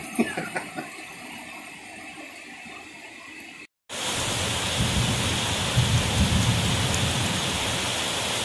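Steady heavy rain pours down during a storm in Bangkok, preceded by a few seconds of quieter rainfall with a brief dropout, and low thunder rumbles faintly beneath the downpour.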